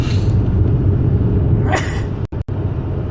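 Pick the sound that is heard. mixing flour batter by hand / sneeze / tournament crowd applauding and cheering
sneeze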